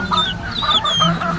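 Young chicks moved into a larger coop chirp and cheep continuously, several overlapping peeping calls close by and fairly loud, with no talking.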